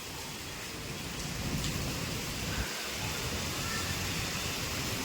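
Heavy monsoon rain pours down outside a parking area, a loud, dense and unbroken hiss of falling water, with a faint low rumble that may be distant thunder.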